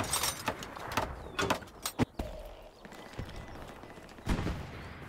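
Gunfire in the World War II shooter Hell Let Loose sounds as scattered sharp shots and bursts, some near and some distant, with quieter gaps between them.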